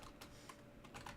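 Quick bursts of clicking keys on a computer keyboard while a Minecraft player types a search, several short clusters of taps spread across about a second, fairly quiet and close with no talking.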